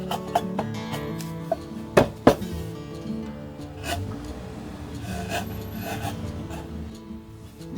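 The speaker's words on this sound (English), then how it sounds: "I have finished marking the short joists, so I cut them." Short Japanese cypress joists for an open veranda deck are cut by hand, giving a steady rasping saw stroke with a few sharp knocks near the start and a louder pair of cracks around the middle, close by with no talk.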